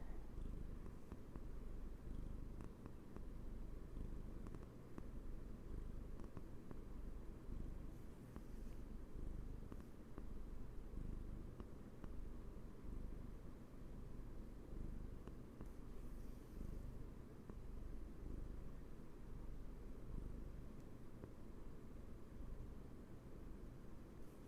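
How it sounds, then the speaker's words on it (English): A pet cat purrs steadily and close by in a continuous low rumbling drone that holds for the whole stretch, with no talking over it. "I should pet her during this ad break, really get the purrs going."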